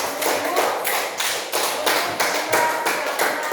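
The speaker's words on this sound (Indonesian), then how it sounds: "jadi tepuk tangan untuk Syafira, dia masih ingat" Hands clap in a classroom as pupils give a round of applause, a dense burst of rhythmic clapping that rises and falls in waves, close and moderately loud with no talk.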